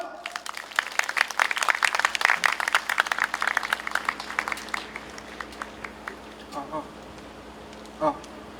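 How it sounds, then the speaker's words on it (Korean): A crowd at an electrical workers' rally claps for an incoming speaker in a brisk burst of scattered applause that thins out after about five seconds, leaving a few faint sounds and murmurs. "힘찬 박수로 모시겠습니다."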